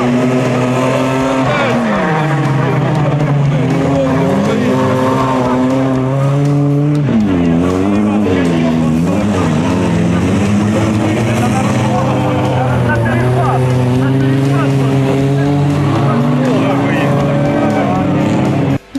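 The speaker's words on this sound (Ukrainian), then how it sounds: "Дощ, бруд та нафаршировані тачки – гучно пройшов фінальний заїзд гонщиків." Rally cars, ordinary Lada hatchbacks and sedans plus a police Volga, race on a rainy, muddy track, engines revving and rising and falling in pitch over about nineteen seconds, loud and continuous, with a voice talking over them.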